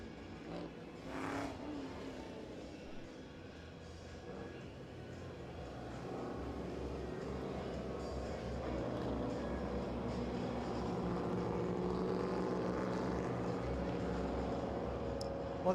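Race trucks of the Michigan Paving All-American series running green flag laps at Owosso Speedway, a steady broad engine roar that swells gradually louder as the pack approaches, with no talk.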